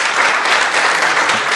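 Dense, loud audience clapping in a small studio hall as a guest is welcomed on a live public show, a steady burst of many hands with no talking.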